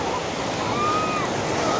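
Ocean waves on a busy Southern California beach wash in a continuous, broad roar of surf mixed with wind, fairly loud and close, with a faint whistle-like tone drifting through.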